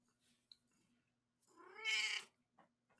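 A cat gives one short, clear meow near the close, preceded by a tiny chirp and faint room hum in otherwise quiet surroundings.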